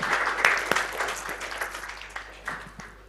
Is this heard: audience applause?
yes